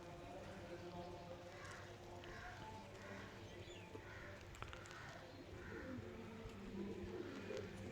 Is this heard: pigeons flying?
yes